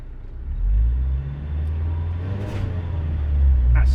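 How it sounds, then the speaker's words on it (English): A car launching in second gear, its engine a loud, low, continuous rumble that swells as it accelerates, with a brief higher whine near the end and no talk. "we're going to go for a second gear launch"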